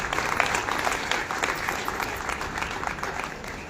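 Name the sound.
applause for the children's parents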